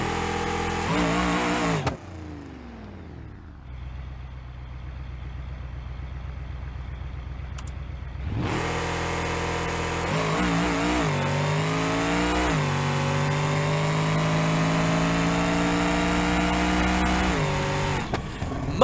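A high-horsepower car engine in BeamNG.Drive screams at high revs, drops to a rough idle, then surges back through repeated hard over-revving pulls, loud and continuous.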